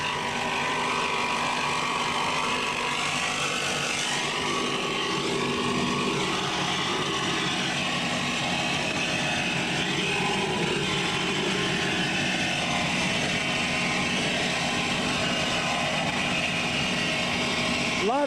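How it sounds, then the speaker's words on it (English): Mercury Marine racing powerboat engine at the 1983 APBA Championships off Key West, Florida, a steady, loud broadband roar held without letup throughout, with no speech over it. "A lot of engine noise coming out of that thing."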